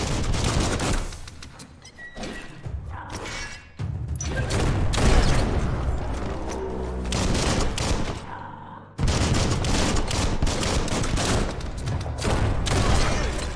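Rapid shotgun blasts ring out in the action game Biomutant, loud repeated gunfire bursts over a dense, busy combat soundscape with no one talking.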